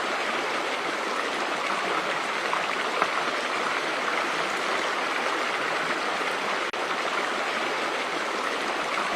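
A river with a strong current rushes steadily and loudly nearby, a dense unbroken roar of flowing water with no voices.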